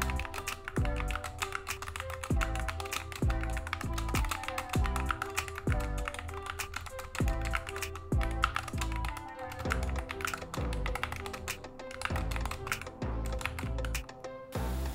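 Steady, brisk clacking of a GK61 mechanical keyboard being typed on, close up, with dense rhythmic keystrokes and occasional heavier thunks, no talking.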